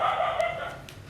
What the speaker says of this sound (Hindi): ये डॉगी को ज़्यादा भौंक रहे हैं